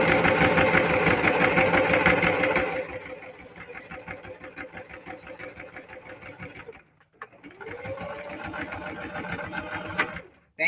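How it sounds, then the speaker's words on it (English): Singer Heavy Duty sewing machine top stitching a crossbody bag, a loud rapid mechanical whir at first that settles into a steadier, quieter run, breaks off briefly and then starts up again. "but I'm going to top stitch it again."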